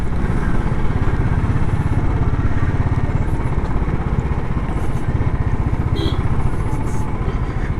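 A long convoy of tractors creeps slowly along a highway in a farmer protest between Delhi and the hills, a loud, steady rumble of many diesel engines clattering together without a break.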